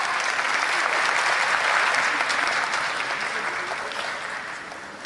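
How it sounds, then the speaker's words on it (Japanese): A large audience claps warmly at the Japan Race Queen Awards ceremony at Tokyo Auto Salon 2023. The applause is dense and sustained, then tapers slightly toward the end. "受賞された小田真美奈さんに温かい拍手をお願いいたします。"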